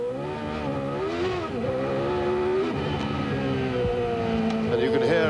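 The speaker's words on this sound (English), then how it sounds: "you can hear as the engine revs suddenly jump up, you hear the wheel spin there" A 1989 Brabham Formula One car screams past at speed during the Australian Grand Prix in Adelaide, its engine revving high and rising sharply as the wheels spin, loud and continuous throughout.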